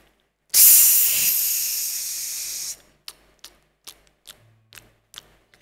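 A voice imitates dosa batter poured onto a hot stone griddle: a loud, breathy hiss lasting about two seconds. Several short, sharp clicks and pops follow, like crackling batter.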